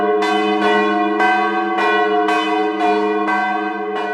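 Resonant bells recorded for an album strike in a slow, even series of about eight loud, close tolls, each ringing on and overlapping the next.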